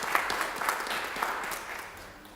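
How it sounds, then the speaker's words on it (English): A workshop audience at Wits University in South Africa claps together in a brief, dense round of applause, steady and moderately loud before tapering slightly at the end. "Can we give Kenneth a round of applause for this?"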